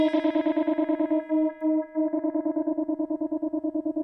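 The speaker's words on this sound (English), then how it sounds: "bringing in a tremolo." A synth pad played on an AlphaSphere controller into Logic Pro X holds a steady tone, and pressing harder on a pad brings in a fast pulsing tremolo. A brief smoother swell in the middle interrupts the pulsing.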